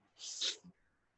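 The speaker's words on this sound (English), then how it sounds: "I feel like I gotta sneeze." A single sharp sneeze up close, a breathy burst followed by a short low catch at the end, then quiet.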